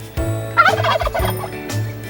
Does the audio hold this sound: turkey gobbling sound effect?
yes